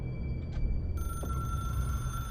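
A red phone rings in the video game Control, a bright electronic trill that starts partway through and holds steadily over a low background hum.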